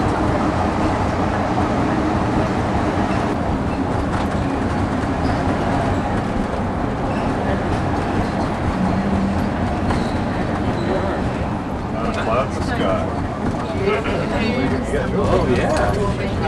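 A train rolls through a 2-mile rail tunnel in Alaska, shared with road traffic, giving a steady, loud, enclosed rumble that fills the whole stretch, with people talking over it.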